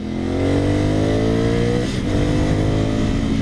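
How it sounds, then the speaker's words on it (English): A 2020 Ducati Scrambler 1100 engine revs loudly up close, pitch climbing steadily, briefly dipping, then rising again in a throaty roar. "I'm on a monster right now, like a crazy powerful motorcycle."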